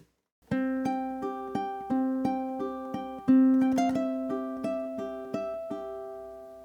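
Ukulele fingerpicking opens a pretty melodic theme, plucked single notes ringing and decaying one after another in a steady flowing pattern, clear and close with no voice.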